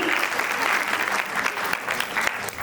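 Guests at a baby shower applaud the couple, a steady, dense burst of many hands clapping close by for nearly three seconds with a faint crowd murmur beneath.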